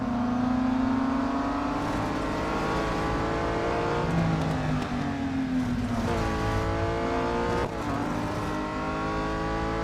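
Race car in the video game Real Racing 3, engine revving hard with rising and falling gear-shift sweeps as the car slides, loud and continuous with no talk.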